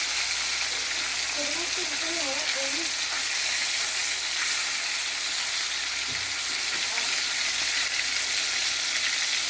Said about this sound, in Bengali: এরকম মাছগুলো দিয়ে দিয়েছি তেলে, এবার একটু একটু করে ভাজা হলে উল্টে নেবো আমি।